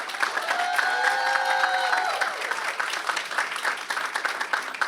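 A press-conference audience applauds to welcome a speaker to the stage. Dense, sustained clapping from a sizable crowd is joined early by a few whoops and whistles, then tapers slightly toward the end.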